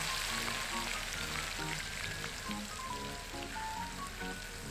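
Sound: tofu frying in hot oil in a wok

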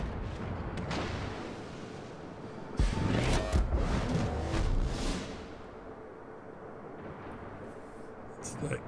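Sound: enemy gunfire and bombs hitting destroyer in video game World of Warships

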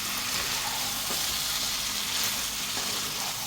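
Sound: mutton sizzling while being sautéed in oil

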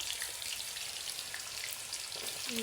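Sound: hog plums (amra) frying in oil

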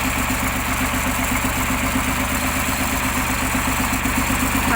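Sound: crawler tractor engine idling

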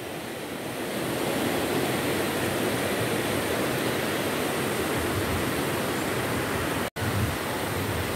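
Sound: waterfall in Finschhafen, Papua New Guinea

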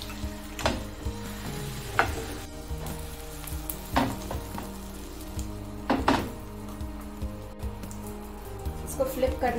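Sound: eggs cooking in a pan

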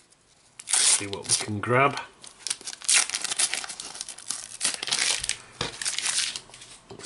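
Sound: tearing open Topps UEFA Champions League sticker packs

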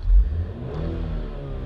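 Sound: car engine revving

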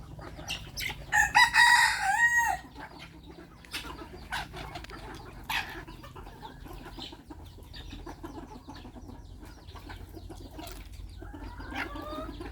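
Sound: chickens clucking and rooster crowing

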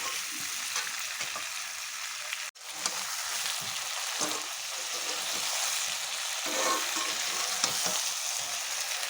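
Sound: stuffed pointed gourd with prawns sautéing in pan

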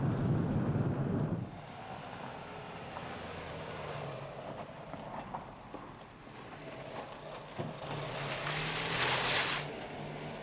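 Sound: Dacia Duster 1.6 petrol two-wheel drive driving on dirt

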